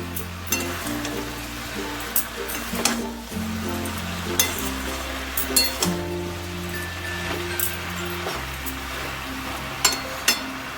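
Cauliflower stalks and mixed winter vegetables cook in a covered pan with little oil and no added water, giving a soft steady sizzle with occasional light clinks beneath louder background music.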